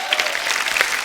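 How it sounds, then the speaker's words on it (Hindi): A studio audience at a comedy show bursts into loud, dense applause that carries on steadily through the whole short moment. "इसके लिए जोरदार ताली हो जाए।"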